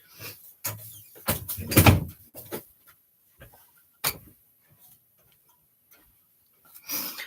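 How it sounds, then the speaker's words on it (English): A door is shut indoors with a handful of close knocks and clicks of handling, a louder thump near the middle, then quiet with faint scattered taps. "Let me shut my door."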